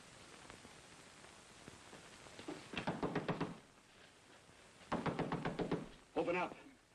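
Knocking on a door in the 1949 film noir D.O.A.: two loud bursts of rapid, insistent raps a couple of seconds apart, followed by a short voice.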